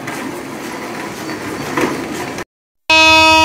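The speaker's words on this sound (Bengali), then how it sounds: "হুইসেল পড়ে গেছে, ফাইনালি চলে যাচ্ছি।" Rumbling railway noise gives way to a brief silence, then a loud, sustained train whistle blasts with a bright tonal sound as the Sonar Bangla Express departs Chittagong for Dhaka.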